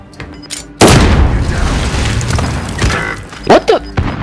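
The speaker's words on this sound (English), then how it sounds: "this guy's shooting me through the fucking wall" A loud, close boom from Call of Duty Warzone is followed by a sustained rumbling roar with mechanical clatter, then a few sharp bursts near the end, with voices under it.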